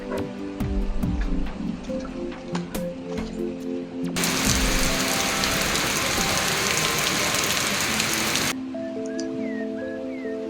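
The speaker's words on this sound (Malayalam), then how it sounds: "പക്ഷേ നല്ല മഴയുണ്ട്." Steady rain pours down in a tropical botanic garden near Palode, Trivandrum, growing into a dense, loud downpour through the middle before easing back to lighter patter.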